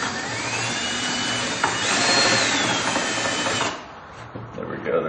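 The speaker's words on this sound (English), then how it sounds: "we need to drill out this hole a little bit more." A power drill runs steadily with a high whine for several seconds, drilling out a hole to enlarge it, then stops, leaving quieter handling sounds nearby.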